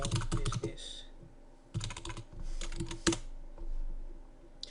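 Typing on a computer keyboard comes in close bursts of quick key clicks separated by short pauses, with no voices.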